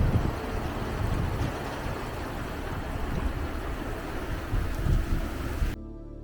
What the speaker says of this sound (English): the thunder rumbling in the distance